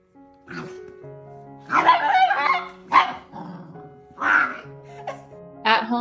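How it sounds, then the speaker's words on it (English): A small blind and deaf dog barks playfully, with several short, loud, close yelps and whines in uneven bursts separated by brief pauses. "Sometimes he barked happily, trying to play with a dog who had already walked away"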